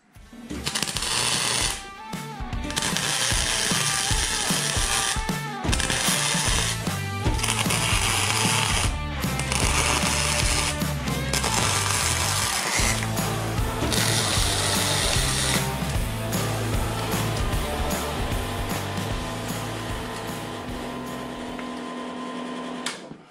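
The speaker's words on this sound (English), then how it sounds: "Gonna weld this washer on just so it's not a sharp edge on the rubber bushing when it sits in there." A welder buzzes and crackles almost continuously for about twenty seconds at close range while a washer is welded onto a spacer for a Honda Civic rear shock lift kit, with brief pauses between passes.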